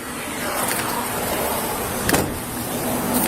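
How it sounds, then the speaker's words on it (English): A car's power window motor whirs steadily as the window rolls down during a police traffic stop, a continuous mechanical hum with a brief louder bump near the end. "I'm going to roll your window down so you can speak to him"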